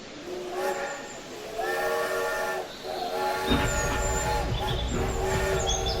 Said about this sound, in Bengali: ট্রেন আবার চলা শুরু করলো